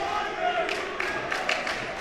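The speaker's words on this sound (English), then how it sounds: "the entire Collegiate crowd is calling for a foul at least once" A high school boys basketball crowd at a substate final shouting and calling out together, a dense roar of voices with sneaker and ball noises, filling the gym throughout.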